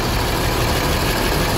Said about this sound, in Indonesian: Mesinnya masih enak dengarnya.